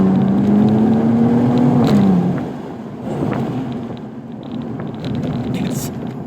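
A 2009 BMW Z4 3.0 twin-turbo E89 convertible accelerates hard, its engine note rising loudly in pitch and then easing off as the gear changes, followed by continued engine and road noise.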